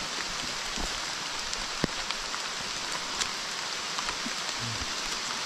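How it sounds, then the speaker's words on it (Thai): Heavy rain falls in the mountains, a dense, steady hiss of drops on surfaces with a few sharper drips, continuous and close, with no voices. "ต้องเสียงฝนด้วยครับ"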